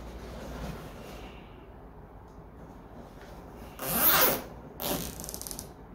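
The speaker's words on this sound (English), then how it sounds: "Okay, now I'm going to zip tie this together" A zip tie is pulled and ratcheted tight while a tube is fastened together for a DIY Halloween tree, giving two close zipping rasps after a quiet, rustling stretch.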